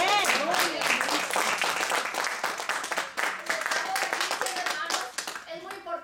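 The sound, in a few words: congregation clapping in church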